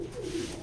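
Racing pigeons cooing close by, a low continuous warbling coo that rises and falls over a short stretch, with faint background noise and no talk.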